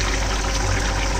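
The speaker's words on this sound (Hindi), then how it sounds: "और इस सब्जी में भी मैं पानी डाल दिया" Water is poured into a vegetable curry in a home kitchen, giving a close, loud, steady rushing and hissing pour that lasts the whole moment without any voices.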